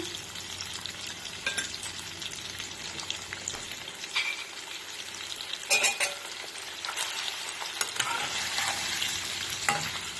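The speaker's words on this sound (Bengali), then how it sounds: "এবার আমি পনিরের ভিতর অল্প পরিমাণে একটুখানি লবণ ছিটিয়ে এটাকে ভেজে নিচ্ছি।" Salted paneer frying in a pan, a continuous moderate sizzle with occasional scraping and stirring clatter as the pieces are turned, no speech present.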